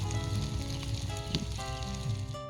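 Steady crackling sizzle of spices frying in hot oil for palak paneer, continuous and close, with a faint tonal hum in the background and no voices.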